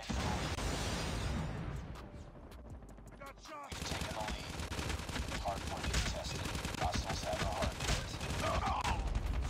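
Call of Duty Mobile gunfire plays as dense bursts of rapid automatic shots over about ten seconds, with a brief lull near the middle before heavy firing resumes, and a voice talks over the action.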